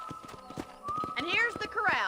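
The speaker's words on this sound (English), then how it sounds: "And here's the corral. This one's for the horses." Horses at a corral in Red Dead Redemption: clip-clopping hooves and a whinny, heard under overlapping speech at moderate volume.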